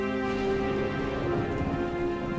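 Heavy rain falls in a steady, even hiss, faint and continuous throughout, with a low tonal hum running underneath.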